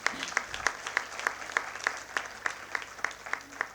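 An audience at an evening Air Force event honouring women officers claps in a steady, even rhythm. The beats are distinct and regular but fairly faint and distant, with no voice over them.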